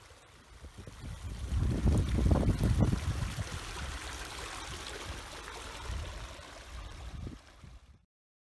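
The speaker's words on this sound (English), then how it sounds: "Look, you got a beautiful creek." A mountain creek in the Banff backcountry, near the Siffleur, rushes and gurgles steadily nearby, swelling louder for a few seconds before easing into a constant flowing wash.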